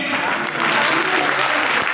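Audience at a religious conference clapping loudly, a close, continuous wash of applause that holds steady for the whole moment with a voice faintly mixed in.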